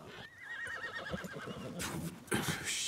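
A horse whinnies and neighs in a Red Dead Redemption 2 game scene, its loud, wavering call carrying over background noise and bursts of hoof and movement sounds.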